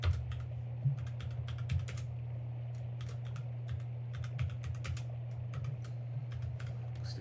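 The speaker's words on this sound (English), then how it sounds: "one second, just type something." Steady clatter of keystrokes on a computer keyboard in irregular bursts, close and fairly quiet, over a constant low hum with no talking.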